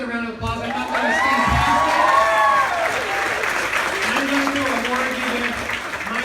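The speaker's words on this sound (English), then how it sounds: "Give her another round of applause." An audience claps and cheers for a volunteer named Lauren at a talk or seminar. The applause is steady and fills the whole stretch, with a few shouts and voices rising over the clapping.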